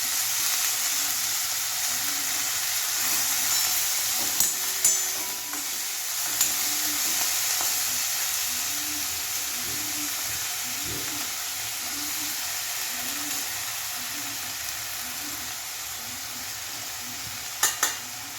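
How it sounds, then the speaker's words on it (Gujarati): Garlic and fenugreek fry in oil with a steady close sizzle, punctuated by a few sharp stirring clicks and utensil taps, with no voices. "એટલે થોડી વાર તેલમાં શેકાવા દઈશું"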